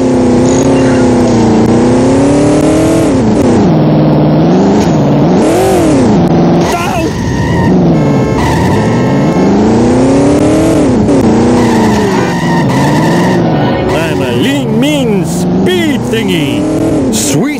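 Loud car engine revving and shifting through gears in The Simpsons Hit and Run video game, with rising and falling pitch sweeps, tire skids and game effects, continuous throughout.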